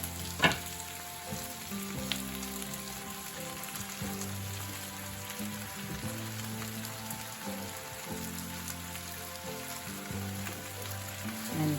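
Onion, celery and carrot sizzling in a pot for chicken stock, a constant crackling fry with occasional knocks and scrapes of stirring, close and moderately loud, no voices.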